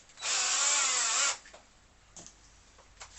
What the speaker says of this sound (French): Je vais percer 2 petits trous devant vous.